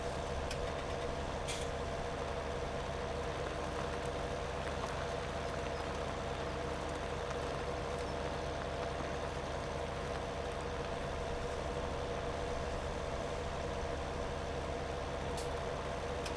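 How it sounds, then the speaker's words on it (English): A tractor engine in the Farming Simulator 17 video game drones continuously as it labours up a hill, a steady, dense rumble with faint clicks and no speech. "when the tractor starts going up the hill there, you can really hear it"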